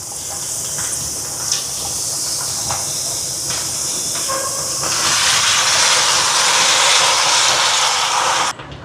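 Chopped cabbage frying in a pan during a vegetarian cooking session for an almsgiving meal in Jaffna, a steady loud hiss that grows stronger midway and cuts off abruptly near the end, with faint clinks underneath.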